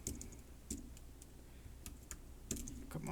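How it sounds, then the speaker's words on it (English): Typing on a computer keyboard, a quiet run of irregular key clicks and taps with a few louder strokes near the end, close and faint, with no speech. "What am I typing?"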